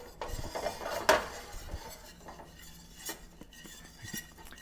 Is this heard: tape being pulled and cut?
no